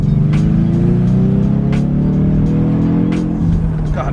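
V6 Ford Mustang accelerating hard with a loud, rising engine note that holds through the gears, heard from nearby with light scuffing noises over the top.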